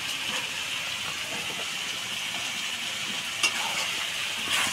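Broiler chicken curry sizzling steadily in hot oil in a pan as fried potatoes are added and stirred, a continuous close hiss with a couple of faint clinks.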